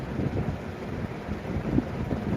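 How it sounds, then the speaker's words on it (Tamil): Strong wind blowing hard against the microphone, a rough, rumbling buffeting gust that stays loud and close for the whole moment, with no voices. "இதெல்லாம் அடி பின்னுது காற்று"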